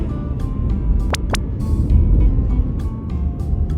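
Car interior while driving, a steady low road rumble and engine hum with a couple of brief sharp clicks or squeaks, no talking.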